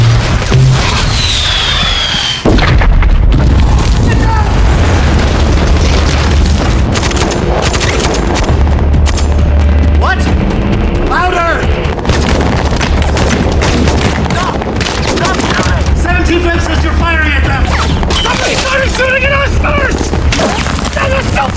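A film's final battle scene set in Benghazi roars with nonstop gunfire, machine-gun bursts and booming explosions. Soldiers shout over the loud, dense barrage throughout.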